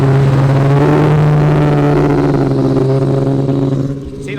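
A racing snowmobile engine roars loud and steady, close by, holding a strong droning tone that eases slightly near the end, with no talk.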